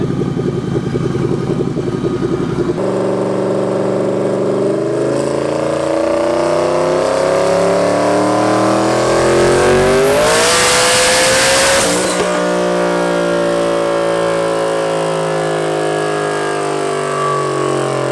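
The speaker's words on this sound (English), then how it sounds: "that sounds incredible, that exhaust" A tuned car engine revs hard through its exhaust, rising in pitch to a loud peak with a roaring blast before settling into a steady, rumbling high idle.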